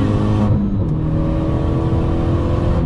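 A Renault Megane 3 RS accelerates hard on the Clastres race circuit, its engine note loud and close, rising steadily with a sustained rev that pulls through without a break.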